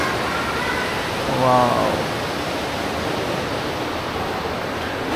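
A clear river flows far below a steep, sheer-walled gorge at Kiyotsu Gorge in Yuzawa, making a steady broadband rush throughout, with a brief voice exclaiming once over it.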